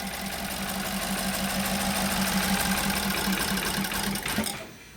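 A BMW X3 engine cranks continuously without catching, a steady mechanical whirring with a rapid regular pulse that runs for about four seconds and then cuts off abruptly.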